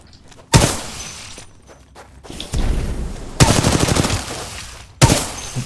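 Bursts of weapon gunfire in the Titanfall 2 video game, loud and sharp, with a close blast, a long rattling volley, another sustained burst and a final crack, separated by brief lulls.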